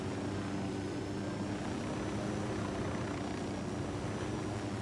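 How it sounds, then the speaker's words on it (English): A military helicopter in a combat video game flies in low to land, giving a steady close rotor thump and engine drone at even loudness throughout, with no voices. "Just a couple of George H.W. Bushes flying around in helicopters carrying guns."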